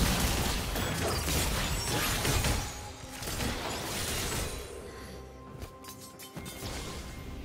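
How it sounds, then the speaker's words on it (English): A turret being destroyed in a League of Legends match, with crashing, smashing game effects and mechanical clatter layered over dense, continuous game sound that eases off partway through. "Blue team's turret has been destroyed."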